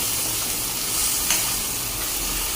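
Masala paste for prawn curry fries in a pan with a dense, steady, close sizzle and hiss, a brief spatter swelling near the middle, no voices.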